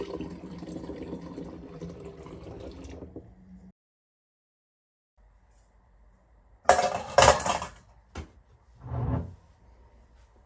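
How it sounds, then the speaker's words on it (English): Mirabelle fruit mixture is stirred in a pot: a soft, steady scraping runs for a few seconds, then silence, then sharp metallic clinks and scrapes come in short, close bursts. "I stir it at all times"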